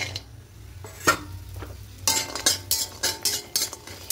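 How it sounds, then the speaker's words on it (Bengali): Lentil dumplings frying in a little mustard oil, a faint sizzle at first, then a run of evenly spaced scrapes and clinks of a spatula against the pan, close up. "তা এই তেলের মধ্যে প্রথমে বড়িগুলোকে একটু হালকা লাল করে ভেজে নেব।"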